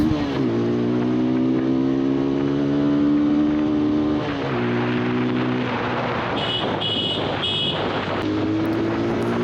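A TVS Apache RTR 160 4V motorcycle's 160cc engine revs up under hard acceleration, its loud droning note climbing in pitch, dipping at a gear change around four seconds, then rising again amid rushing wind.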